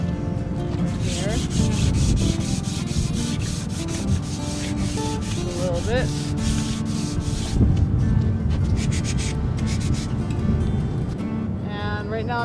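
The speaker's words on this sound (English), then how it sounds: "right now I'm just sanding a few little spots" Continuous rhythmic rasping of sandpaper rubbing on small spots of wood on a traditional sailboat, close and loud, with a few short spoken words over it.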